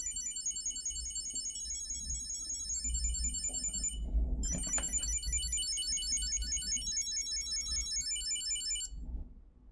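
A Chipolo Bluetooth tracker built into a wallet plays its ringing alert, a bright repeating electronic melody that pauses briefly midway and then resumes, heard clearly over faint low background rumble before cutting off near the end.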